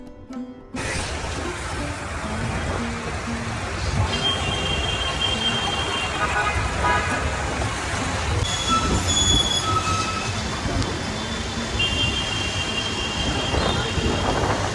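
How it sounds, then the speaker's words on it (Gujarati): A passenger train heading toward Botad in Gujarat, heard from inside, rolls steadily with a continuous rumble and high metallic wheel squeals rising over it; faint voices murmur in the carriage. "આ ટ્રેનમાં આપણે અત્યારે બેસી ગયા છીએ, જોઈ શકો છો અત્યારે બોટાદ બાજુ નીકળી ગઈ છે।"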